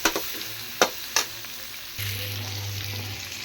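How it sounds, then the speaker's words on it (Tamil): Marinated baby potatoes frying in hot oil for a spicy potato fry, a steady close sizzle with a few sharp clinks of a utensil against the pan early on, the crackle growing denser and louder partway through. "எண்ணெயில் நல்லா பரட்டியாச்சு."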